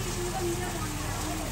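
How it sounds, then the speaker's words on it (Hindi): Heavy rain pours down in a dense, steady hiss of broadband noise that fills the whole moment, with a voice faintly present underneath. "सही तबाही की बारिश माशाल्लाह से हो रही है"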